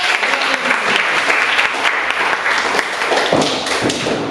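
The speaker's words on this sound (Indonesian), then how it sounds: "Ya, baik, kita berikan aplaus." Applause fills a classroom during a mathematics lesson, with many hands clapping steadily and densely for about four seconds.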